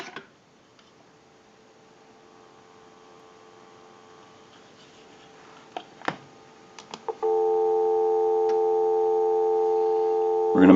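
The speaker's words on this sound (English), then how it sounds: "We'll go ahead and give you some dial tone." A Stromberg Carlson wood wall telephone after a repair conversion, playing a steady, loud dial tone that begins suddenly after several seconds of near silence, faint handling clicks and knocks.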